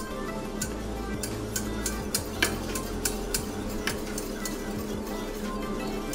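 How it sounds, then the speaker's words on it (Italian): Wire whisk beating agar gelling liquid in a metal pot for a molecular pre-dessert, rapid, regular ticking clinks against the pot close by, with a low steady background hum and no speech. "Mettiamo dentro, frustiamo bene per farlo sciogliere e lo portiamo a bollore"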